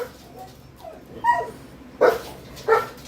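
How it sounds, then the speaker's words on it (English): A dog gives a few short barks and yips indoors, spaced out and fairly close, with brief whimpering sounds in between. "dog alert"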